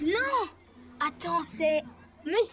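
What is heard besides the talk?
No distinct noise like a dog, phone or traffic.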